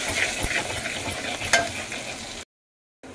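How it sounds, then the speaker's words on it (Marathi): Turmeric and masala fry in hot oil with a steady close sizzle and occasional spoon scrapes and clicks, with no voices, before a short break of silence. "आता हे सगळं तेलामध्ये आपला मसाला आणि हळद चांगली फ्राय झाली आहे"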